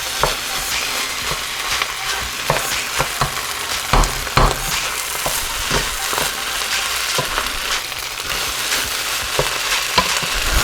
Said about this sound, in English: So we'll mix this up really good. Cook this down.